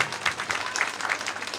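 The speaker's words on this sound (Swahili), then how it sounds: "wapige makofi." Church gathering applause, a brief burst of many hands clapping at close to moderate distance, dense and continuous.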